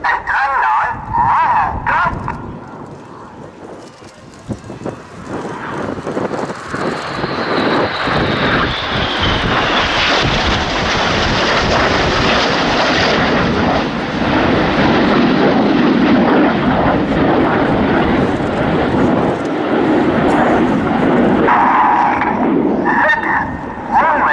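Red Arrows display team jets roar through a formation display at RIAT 2016, a loud sustained jet-engine rush building and sweeping overhead for the whole span, with a rising whine and crowd noise beneath.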